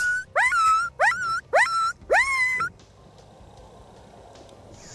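Four sharp, rising whining yelps in quick rhythm, imitating coyote and pup distress calls, then quiet background for the rest.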